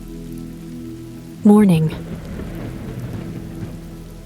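Steady thunderstorm rain ambience, a continuous wash of rainfall with a low rumble, runs throughout beneath a brief spoken word near the start.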